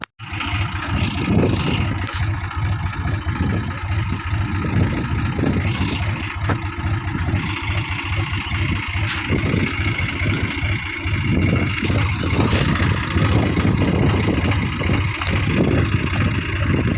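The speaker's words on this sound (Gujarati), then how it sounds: "फाइनली चालू कर दी ट्रैक्टर" A tractor engine runs steadily and loudly close by, a continuous low rumbling drone with slight surges, and no voices.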